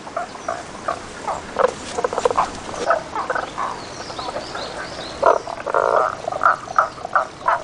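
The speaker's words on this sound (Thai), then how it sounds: "สัตว์ที่ซ่อนตัวอยู่ท่ามกลางก้อนหินเหล่านี้ คือกบทาโกะสีน้ำตาลตัวผู้ มันกำลังเรียกหาตัวเมีย" A male Tago's brown frog calls for a female from among rocks in an ancient Kyoto temple garden in spring, giving repeated short clucking croaks in irregular bursts, close and clear over faint background hiss.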